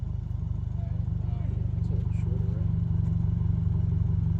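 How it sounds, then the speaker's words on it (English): Idling 2022 Subaru WRX turbo with an MBRP axle-back exhaust, a steady low rumbling drone close to the car with faint turbo whistle and chirps on top, while people talk quietly over it. "The turbo's louder right now."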